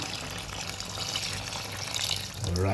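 Water pours steadily into a cooking pot of sour stew in a home kitchen, a soft continuous splash and trickle at close range, with a brief louder gurgle near the end.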